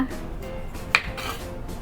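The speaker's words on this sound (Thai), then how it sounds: "มะเขือเทศนี่หั่นกลางเลยค่ะ หั่นให้มันชิ้นเล็กๆหน่อย" A knife cuts tomatoes in half and into small pieces in a home kitchen while preparing northern Thai nam prik ong. A single sharp tap of the blade meets the board over faint low kitchen clatter.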